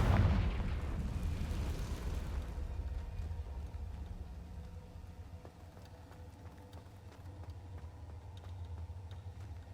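Confringo fire spell in Hogwarts Legacy bursts in a loud booming explosion at the start, then fades into a low rumbling game ambience.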